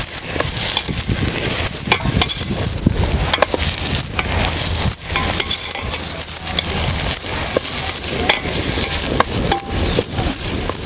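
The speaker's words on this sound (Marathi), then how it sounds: "पूर्ण सगळं आपल्याला असं एकजीव करून चांगलंसं परतून घ्यायचं." A spatula scrapes and knocks against a pan as an onion and tomato mixture is sautéed and stirred, loud, close and continuous clatter with frequent sharp metallic taps.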